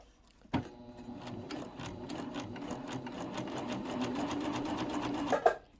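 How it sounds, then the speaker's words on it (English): A Baby Lock sewing machine stitches a fabric strip for a 3/4-inch belt loop binder, starting with a clunk then running in a fast, even needle rhythm, quiet and close, ending with another knock. "And then I'm going to start stitching."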